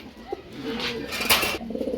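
A pigeon kept for sale in a market coos in a low, soft murmur, close by, with faint background noise and a brief sharp sound near the end.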